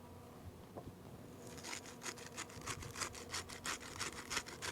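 Coarse salt and black pepper being rubbed onto a tri-tip for teriyaki bowls, heard as soft, quiet repeated scratchy strokes that grow into a steady rhythmic rasping, with no voices.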